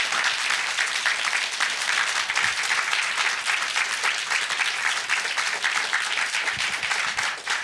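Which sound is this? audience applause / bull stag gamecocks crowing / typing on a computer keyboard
audience applause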